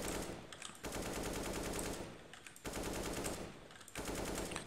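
Automatic rifle spray in the game CS:GO, two long sustained bursts of rapid gunfire separated by a brief pause, loud and close with no talk.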